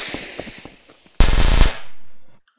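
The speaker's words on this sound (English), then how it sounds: "we also have a bunch of crackers. Nice. Let's set them off." Firecrackers set off in the game Garry's Mod: a quick string of sharp pops, then a loud burst of rapid crackling bangs that cuts off abruptly, followed by a fading tail.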